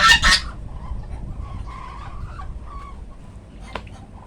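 Geese and ducks in a backyard: a loud burst of honking and squawking at the start, then quieter scattered bird calls and faint clucks over a steady outdoor background.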